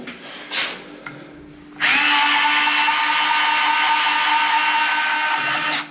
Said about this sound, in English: Still using the Bosch Go.